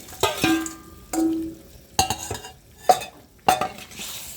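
A utensil stirring rohu fish head curry with winter vegetables and water in a pan, five distinct scraping, clattering strokes spaced about a second apart, close and fairly quiet.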